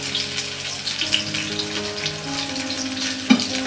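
Sliced onion and green chillies frying in hot oil, a continuous close sizzle and crackle with a faint tonal hum underneath.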